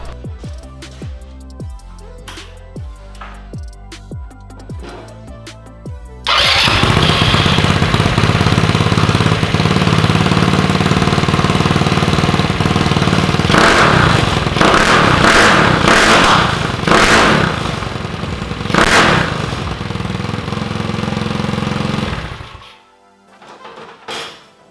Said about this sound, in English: let me show you how this scooter sounds, okay?